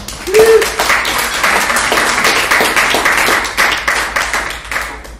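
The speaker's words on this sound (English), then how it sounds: "How about one more round of applause for the amazing host, Sarah?" Audience applause for the host at a comedy show in Livermore: dense, steady clapping from a crowd fills the stretch, loud and close, with a brief whoop near the start.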